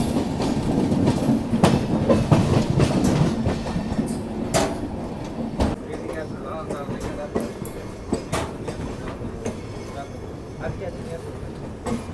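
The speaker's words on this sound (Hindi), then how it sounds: "देखो अभी कोई ट्रेन क्रॉस हो रही है" The South Bihar Express passes near Bilaspur while heard from aboard a moving train, with loud rumbling wheels, rhythmic clatter and sharp bangs that gradually ease off, and voices talking throughout.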